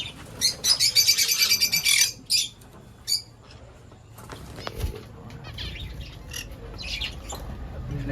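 Pet finches and Java sparrows in a home bird farm set off a burst of loud wing flapping and scrambling up close. Softer chirps and squawks follow over a steady room hum.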